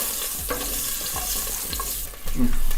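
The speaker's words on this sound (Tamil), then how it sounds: "வெங்காயம் சேர்த்துட்டு 2 நிமிஷம் வதக்கிக்க போகிறோம்" Onions sautéing in a pan with a little turmeric powder: a continuous hiss of frying broken by regular stirring scrapes, growing slightly louder at the end.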